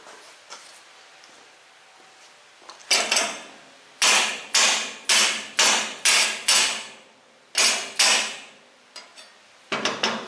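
Hammer blows land on 1968 M715 Jeep parts as they are beaten straight: sharp, ringing metallic strikes, first a single hit, then a quick run of about six, then a few more, close and loud.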